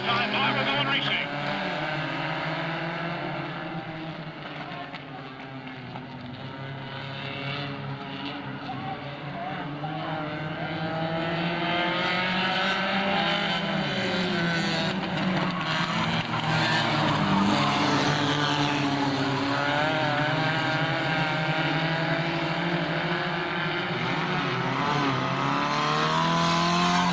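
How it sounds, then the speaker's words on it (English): Race cars roar away at the green flag, a dense, loud, continuous engine drone that builds and holds throughout, with an announcer talking over it. "Green flag this time, we're going racing."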